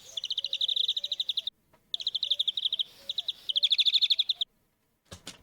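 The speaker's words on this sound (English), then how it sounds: "Okay, so different type of birds." Birds give rapid trilling chirps in several fast rhythmic bursts separated by short pauses, fairly faint and clean, followed by a brief sharp burst near the end, one of several bird types layered into an ambience.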